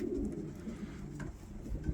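Adana pigeons in a fancier's loft cooing softly in low, rolling calls, close by but quiet, with no talk.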